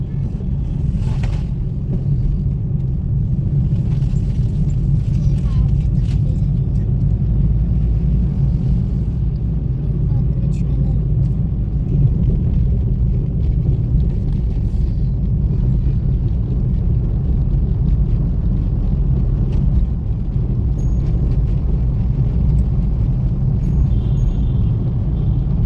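Slow road traffic near the Katraj tunnel makes a steady, loud low rumble of car and truck engines, a continuous drone with no breaks and no talk.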